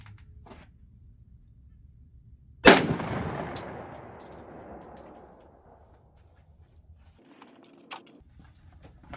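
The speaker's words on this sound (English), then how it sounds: "We'll go ahead and take 1 shot to see where it is and make adjustments from there." A single loud Remington 1100 shotgun slug shot cracks out at an outdoor range, then its long booming echo rolls away over several seconds, with faint birdsong and small handling noises before and after.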